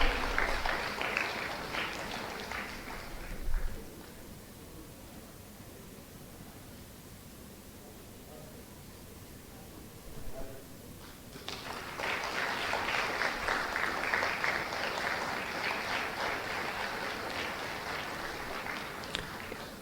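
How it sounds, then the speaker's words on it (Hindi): Audience applause in a hall at an official ceremony in Bhopal's Minto Hall, cheering Gwalior district as collectors are called to the stage: a loud burst of clapping fades into a lull, then a second, sustained round swells up. "एक बार जोरदार तालियां हो जाएं जिला ग्वालियर के लिए"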